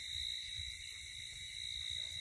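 Crickets chirp at night in a quiet outdoor spot, a continuous high, shrill trill held at a steady level over a faint low rumble.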